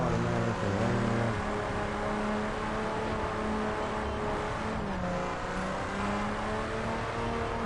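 A 2011 BMW Z4 street edition rated at 412 hp holds a loud, steady engine drone with rising and falling rev tones, heard up close with no voices.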